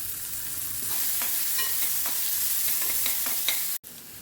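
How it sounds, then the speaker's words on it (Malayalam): Chopped onion, ginger and garlic sauté in hot oil in a pan, with a steady close sizzle broken by soft scraping stirs, then a brief cut near the end. "ഇതിലേക്ക് ഒരു ചെറിയ സവാള പൊടിയായിരുന്നു ഒരു കഷ്ണം ഇഞ്ചി പൊടിയായിരുന്നു രണ്ട് വെളുത്തുള്ളി പൊടിയായിരുന്നു ജസ്റ്റ് ഒന്ന് വഴറ്റിയെടുക്കാം"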